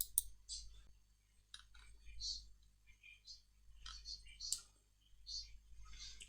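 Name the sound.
computer mouse clicking to download XAMPP for Windows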